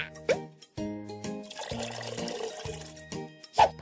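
Bath water filling a tub in a newborn baby care video game, a steady trickling pour with bubbly plops, framed by bright chime-like game tones at the start and end.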